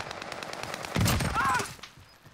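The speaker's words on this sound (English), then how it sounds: "Whoa, this gun shreds." Automatic gunfire in the online shooter Call of Duty Warzone, a loud dense burst lasting about half a second mid-clip amid game noise, with a brief electronic tone after and a voice faintly present.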